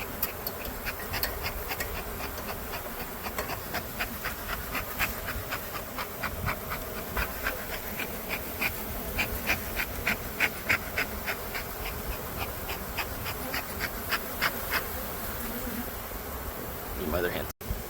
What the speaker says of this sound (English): The bees are mostly out of the pole, and you can see them hovering around, flying around, and landing.